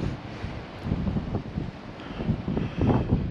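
Gusty wind buffets the microphone at a bleak, exposed viewpoint outdoors, a low, rumbling, uneven roar that swells and dips steadily throughout with no voices.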